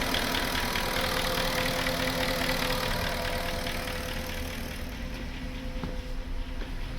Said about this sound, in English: Little bit of knocking noise. Top end.